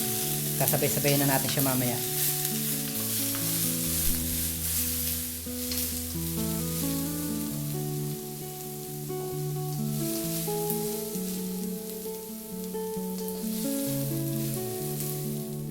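Garlic, ginger and onion sautéing in hot oil for Filipino chicken sotanghon soup: a soft sizzle with occasional stirring clatter, mostly buried under background music, with a voice speaking briefly.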